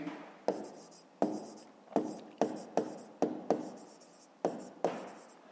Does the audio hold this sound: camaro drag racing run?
no